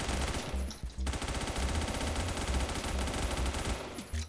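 Automatic gunfire in the Roblox shooter Phantom Forces rattles in long rapid bursts, loud and close, with a brief break after the first second before the firing resumes almost continuously.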